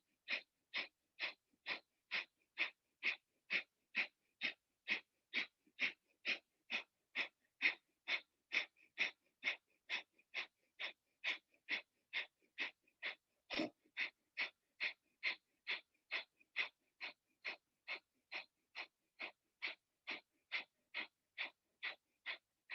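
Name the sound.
Kapalabhati yoga breathing, rapid forceful exhales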